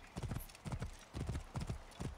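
Horse hooves clop in a fast, regular rhythm as a horse is ridden in the video game Assassin's Creed Origins, several quick bursts of hoofbeats, close and clear.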